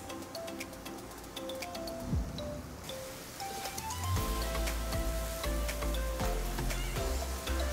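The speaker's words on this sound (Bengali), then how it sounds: "আমি এখন একটু কষাই নিচ্ছি।" Spice paste of chili paste, salt and other spices sautéing in a pan for a tomato onion gravy, a steady close sizzle and crackle with occasional stirring clinks and scrapes, louder in the second half.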